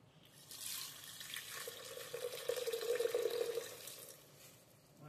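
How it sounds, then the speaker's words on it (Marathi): Water is poured into dal and spinach while cooking, making a close, steady splashing pour that swells in the middle and then tapers off. "आता आपण याच्यामध्ये पाणी टाकणार आहे।"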